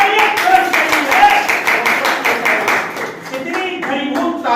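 Audience clapping at a Teacher's Day celebration in 2020, a steady dense patter of many hands lasting throughout, easing slightly near the end, with a voice carrying over it.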